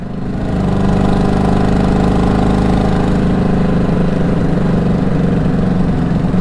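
A blue project motorcycle with sticking throttle cables or carburettors runs steadily close by, its engine droning loudly with a slight rise in pitch early on, heard alone.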